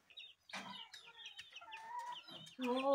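Chickens clucking close by in a backyard, a run of repeated clucks and squawks in quick bursts, louder toward the end, without speech.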